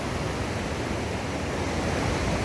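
Loud, steady rush of water at a river crossing on the Pacific Crest Trail, a dense unbroken roar filling the whole moment close by, with no voices.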